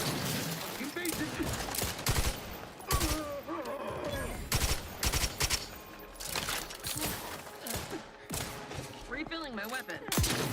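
Dense gunfire in the Outer Worlds 2 video game, with repeated sharp bursts and volleys layered over busy combat noise, loud and continuous throughout, with voices mixed in.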